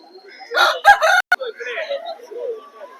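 A rooster crows once at the Nandigama livestock market, a loud, close call lasting about a second with a clipped ending. A faint stray squawk and soft market voices follow.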